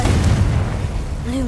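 A deep booming blast from the Confringo spell in Hogwarts Legacy, a loud low rumbling explosion close up that fades into a short tonal magical whine.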